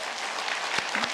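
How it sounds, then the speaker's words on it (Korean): A church congregation applauds together in steady, dense clapping at close range, with a couple of low thumps near the end. "우리 서로 수고했다고 박수 한번 하실까요?"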